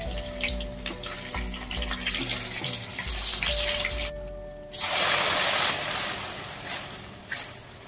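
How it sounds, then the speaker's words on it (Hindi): Small cut potato pieces salted and frying in hot oil in a kadai, a close crackling sizzle that swells into a loud hiss about two-thirds through, then settles. "अब मैं छोटे साइज के दो आलू ऐसे टुकड़ों में काट लिया है और उसमें थोड़े से नमक भी दे दिया है मैंने, इसे फ्राई कर लेंगे"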